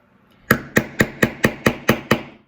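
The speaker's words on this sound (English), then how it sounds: "Hammer it through. It makes the hole." A hole punch is hammered through craft material for a DIY Christmas gift, giving eight sharp, evenly spaced metallic strikes in quick succession, close and loud, with no talking.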